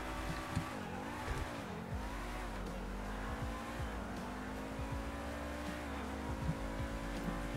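A car in GTA 5 drives along, its engine revving up and down through gear changes with occasional tire squeals, steady and fairly quiet with no talking over it.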